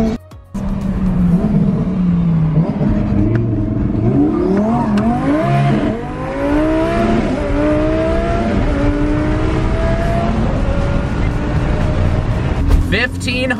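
McLaren 600LT pulling hard in third gear from about 5,000 RPM, a loud, close engine roar climbing steadily in pitch with several rising sweeps, running continuously for most of the clip.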